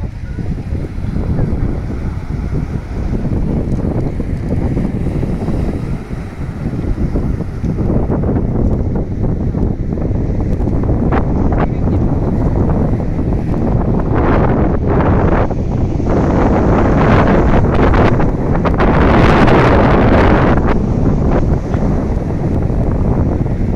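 Strong warm wind by the sea buffets the microphone in a steady loud roar, with gusts swelling and easing throughout; faint surf may sit beneath it.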